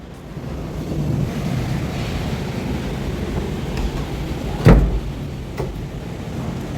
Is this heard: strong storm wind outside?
yes